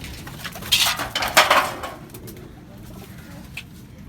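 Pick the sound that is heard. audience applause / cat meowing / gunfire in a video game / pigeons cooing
pigeons cooing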